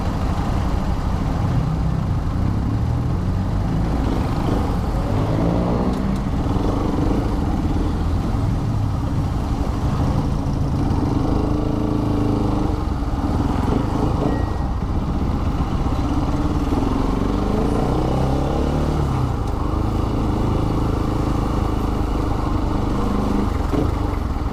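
Dense road traffic with idling car and motorcycle engines, a steady rumbling clatter of many motors close by, continuous and loud with no talk.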